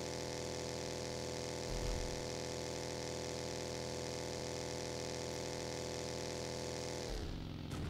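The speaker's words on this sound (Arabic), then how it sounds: "جايتهم مدرعة يا الله" Video game armored vehicle engine, a steady droning hum with layered tonal whine running almost unbroken. It holds level and fairly loud, with a brief rumbling surge near the start and a shift near the end.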